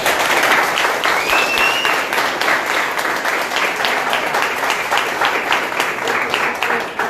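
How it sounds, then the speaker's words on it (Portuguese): An audience at a library inauguration event gives a steady round of applause to honour a master, a dense, loud, unbroken wash of clapping that lasts the whole seven seconds. "Salva de palmas"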